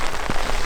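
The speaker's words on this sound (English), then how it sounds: "Because the rain is going to do what the rain's going to do." Steady rain pours down outdoors on an Alaskan mountain hunt, a dense, close hiss of drops spattering on surfaces with no pauses.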